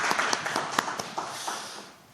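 Applause from a church congregation for the children who made flowers: a brief, moderately near patter of clapping with a few sharper claps, fading out over about two seconds.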